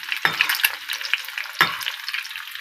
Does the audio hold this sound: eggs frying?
yes